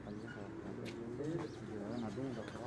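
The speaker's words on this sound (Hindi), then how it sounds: "ਇਹ ਕਿਹੜਾ ਭਾਜੀ ਕਬੂਤਰ ਹੈ ਜੀ?" A golden pigeon cooing in soft, low, rolling phrases, close and fairly quiet, with a faint background hum and some indistinct voices.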